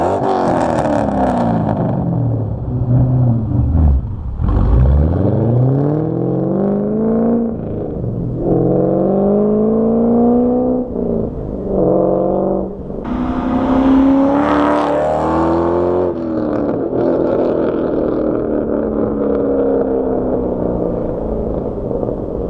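A car fitted with a Pypes muffler delete exhaust revs hard and close, its raspy note sweeping up and down through repeated throttle blips and steady rumbling stretches, with no talking over it.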